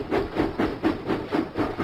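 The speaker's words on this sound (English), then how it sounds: "James pumped his pistons and puffed out of the docks." A cartoon steam locomotive in a Thomas & Friends video game puffs steadily, a rhythmic chuff-chuff of about eight even beats, loud and close with no voices.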